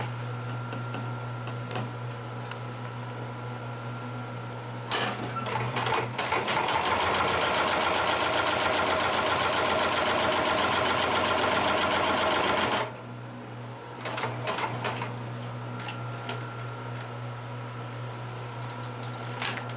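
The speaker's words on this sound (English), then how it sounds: "let's bring this on top of it and see if we can get it to sew over some thicker material" A Consew 733R-5 heavy-duty industrial lockstitch machine hums at idle, then drives through thick saddle leather in one loud, continuous eight-second run of rapid stitching before settling back to the motor's steady hum with a few clicks.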